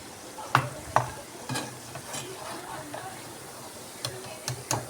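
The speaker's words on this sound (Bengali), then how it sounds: "তো একইভাবে আমি বাকিটাকে ভেজে নেব" Egg-and-flour snack pieces frying in hot oil, a steady soft sizzle with a few sharp utensil clicks and taps scattered through, close by and fairly quiet.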